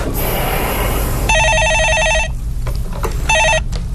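An incoming call rings on a telephone in a Korean stock-advice phone-in broadcast: a burst of noise, then two loud electronic ring bursts separated by a short gap, close and clear with no talking.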